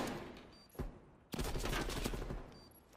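Call of Duty League match gunfire, a couple of isolated shots followed by a sustained burst of rapid automatic fire, loud and close, with no clear talk.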